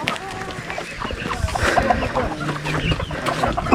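Roosters and hens on a chicken farm, several birds clucking in overlapping bursts with a rooster's crow, moderately near against a busy background.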